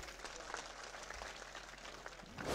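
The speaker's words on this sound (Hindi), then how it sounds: "जोरदार तालियां बजाइए।" A crowd at a Brahmin community political gathering in Taranagar, Churu claps in a steady, moderately loud round of applause, with a few sharper claps standing out and the sound swelling near the end.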